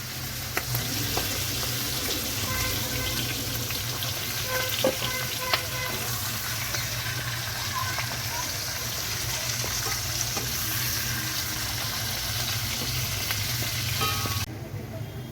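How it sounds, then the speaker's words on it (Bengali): Potatoes, onions and capsicum fry together in oil, making a dense, continuous sizzle close by, dotted with small clicks and pops from stirring, before cutting off abruptly near the end. "আলু, পেঁয়াজ, ক্যাপসিকাম ভাজা হয়ে গেছে, ওই তেলেই মাংসগুলো দিয়ে দেব।"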